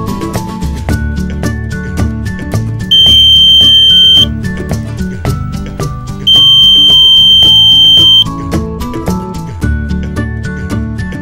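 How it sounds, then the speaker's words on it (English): A buzzer wired to an LDR relay switch circuit sounds two steady, shrill tones, each lasting one to two seconds, over background music. "We can also make use of this circuit as a security alarm. Just add a buzzer and connect to the relay switch."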